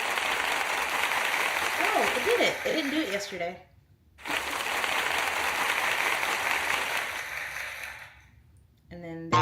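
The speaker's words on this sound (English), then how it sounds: "So can you hear an applause?" Recorded applause effect played from a phone streaming app, a steady crowd-clapping wash that stops briefly, resumes, then fades, with someone talking over part of it.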